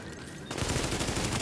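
Gunfire in the video game The Division breaks out suddenly after a quieter moment, becoming a dense, rapid burst of automatic shots that keeps going to the end.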